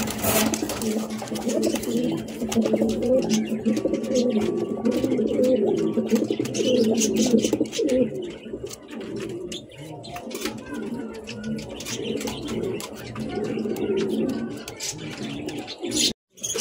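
A white Danish running pair of pigeons coos continuously in soft, throaty rolls, close and moderately loud against faint background clatter.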